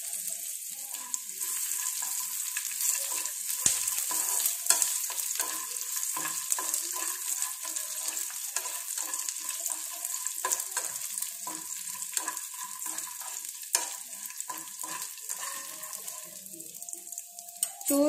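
Peanuts frying in oil in a pan, a steady close sizzle with stirring scrapes and small crackles throughout, no voices.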